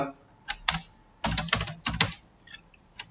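Keys clatter on a computer keyboard as a spreadsheet formula is entered, with short close bursts of clicks separated by brief pauses and a few lone keystrokes.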